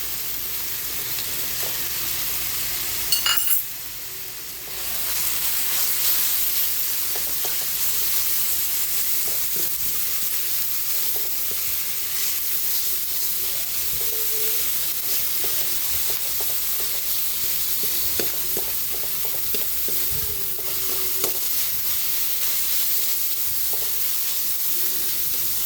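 Ground meat and tomato sizzle steadily in a hot pan, a continuous close frying hiss with occasional stirring clatter and no talking.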